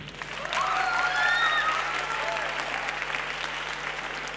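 A crowd at a young talent showcase gives the performers loud, sustained applause, with a few bright whistles rising above the clapping early on and a faint steady hum underneath.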